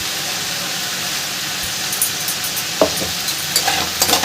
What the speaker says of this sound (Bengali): এবার সিমটাকে হালকা করে আরেকটু ভাজা ভাজা করে নেব রসুন পেঁয়াজের সাথে